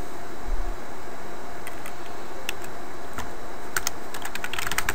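Typing on a computer keyboard while entering network commands, with a steady run of close key clicks and faster bursts over constant background hiss, no talking.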